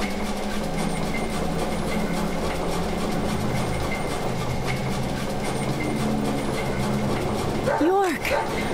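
A dog in the video game Deadly Premonition gives a short whimpering bark near the end over a constant low rumbling background with faint voices.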